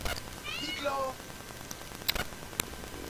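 A pet cat meows in The Sims 2, a single drawn-out rising and falling mew near the start, followed by a few soft clicks and faint game sounds.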